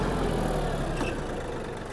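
Yanmar F-20 mini tractor engine running at its top speed in third gear, a steady loud droning rumble with a slight fade toward the end.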